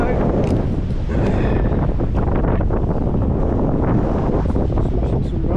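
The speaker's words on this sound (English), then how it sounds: "get a bit windy up here now." Loud, constant wind buffeting the microphone high up in a conifer, a dense roaring rumble with gusty bursts throughout.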